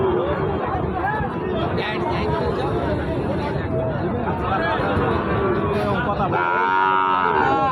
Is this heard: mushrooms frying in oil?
no